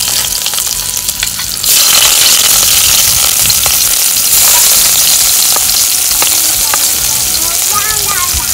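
Onions and garlic dropped into hot oil in a pot, bursting into a loud, dense, continuous sizzle that holds steady with occasional crackles and a light stir, close up and with no talk.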